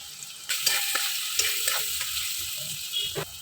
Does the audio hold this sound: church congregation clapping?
no